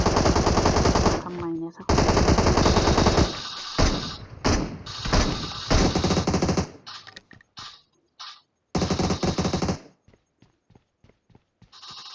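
Automatic weapon fire in PUBG Mobile, with loud rapid bursts repeating in long strings. The shooting breaks into shorter choppy volleys and then scattered single shots toward the end.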